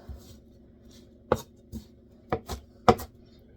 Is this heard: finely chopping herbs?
yes